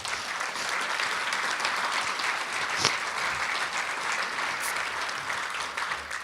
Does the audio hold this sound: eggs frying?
no